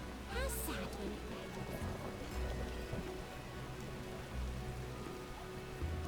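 Rain falling in the Trade Quarter of a city in The Witcher game, a steady patter over the surface with a low rumble beneath, constant and fairly soft throughout.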